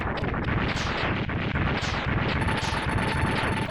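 A character in the Mega Man X2 video game explodes in a loud, rapid-fire chain of overlapping blasts that repeat in quick succession with no let-up.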